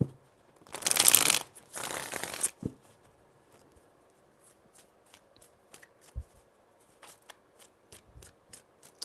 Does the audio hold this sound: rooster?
no